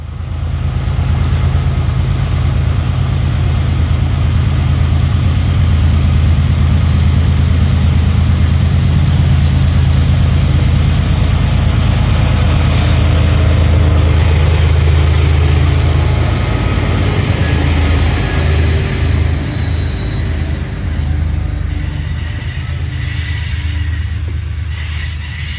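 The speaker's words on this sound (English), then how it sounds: "westbound manifest train M331 would break the silence on this mundane Wednesday morning" CSX westbound manifest freight M331 rolling past on a quiet weekday morning, a loud, sustained low locomotive drone and rail roar that holds for the whole stretch and eases slightly near the end.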